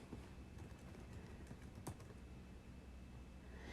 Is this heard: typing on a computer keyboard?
yes